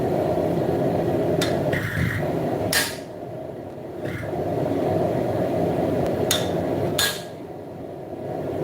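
A railroad spike being forged into a tomahawk is struck by hand with a hammer, giving a few sharp, widely spaced metallic hits over a steady hum of background noise.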